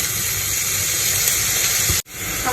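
Meat dropped into a pan of softened onions sizzles with a continuous bright, hissing crackle, loud and close, broken by one brief dropout near the end before the frying hiss returns.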